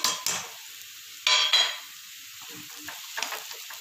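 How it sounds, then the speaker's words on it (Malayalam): Garam masala, coriander, turmeric and cumin powders are stirred in a pan with green chillies for mutton. Scraping stir bursts cut through a soft, close sizzle, with the loudest strokes near the start. No one speaks. "ഇതിൻ്റെ പച്ചമുളക് ഒന്ന് മാറണ വരെ വഴറ്റി കൊടുക്കാം."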